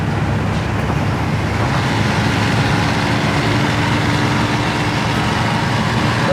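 A 1962 Chevrolet Impala with a 283 two-barrel V8 cruising on a road at speed, a steady broadband rumble of engine, tyres and wind, continuous and loud with no talking.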